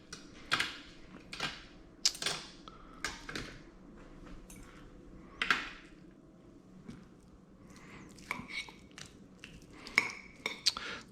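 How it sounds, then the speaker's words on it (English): Cooked chicken being skinned and shredded by hand for pozole verde: soft squishy tearing and pulling with scattered clicks and taps, close and fairly quiet, with no talking. "Okay, let's skin and shred this chicken."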